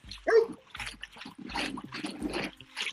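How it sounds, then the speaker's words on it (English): A big German Shepherd barks outdoors, a couple of sharp barks followed by ongoing rough noise and movement. "That's a big old German Shepherd up here where I'm at."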